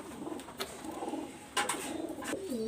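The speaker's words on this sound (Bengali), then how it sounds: "এখানে আমি একটা গোল্ডেন কবুতর দেখাচ্ছি দেখেন" Pakistani high-flyer pigeons coo in a loft, soft rolling calls repeating unevenly at close range, with occasional sharper clicks and rustles between them.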